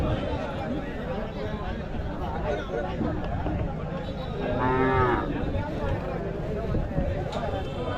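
At the Mattrapalli cattle market, a bull lets out one loud, close moo over constant crowd chatter and livestock noise. Someone talks throughout.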